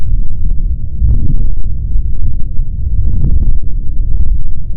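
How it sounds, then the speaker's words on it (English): Tire rubber rolling against a highway road surface, picked up by a GoPro mounted on the wheel, a loud continuous low rumbling drone with rhythmic dull thumps and throbbing, no speech. "If you listen closely, you can hear the rubber coming in contact with the road"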